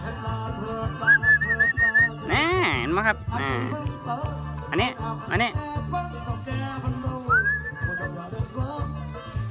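A man on a cattle farm whistles to call his cows in, a series of clear melodic whistled phrases with rising and falling pitch, interrupted by short spoken remarks.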